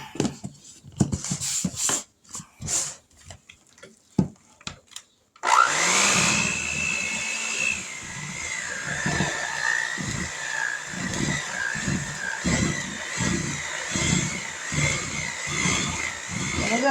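After some clatter and handling noises, an electric mixer starts up and whirs steadily, its motor pitch wavering as it churns peanut butter with powdered sugar, loud and close with no talking.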